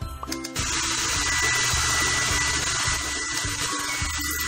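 An electric shaver buzzes continuously in a Christmas animal hair salon game as a reindeer is shaved, a steady close whir over light background music after a brief click at the start.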